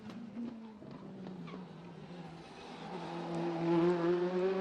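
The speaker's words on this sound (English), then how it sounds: "Just about getting the car stopped, using the camber of the road there." A WTCC touring race car at the Macau street circuit brakes hard, its engine note dropping through downshifts before rising again, with onboard engine drone close and continuous.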